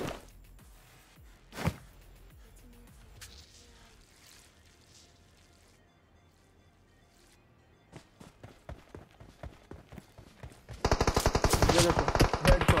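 Gunfire in the mobile battle-royale game PUBG Mobile: a sharp early shot, then scattered mid-distance bursts, building into a loud, dense rapid-fire stream of automatic shots at the end.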